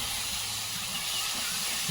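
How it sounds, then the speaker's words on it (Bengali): A loud, continuous hiss of steam as water is poured into a hot pan of fried meat and tomatoes, steady throughout with a slight swell at the end. "সব কিছু ভাজা হয়ে গেছে এর মধ্যে একটু জল দিয়ে দিল"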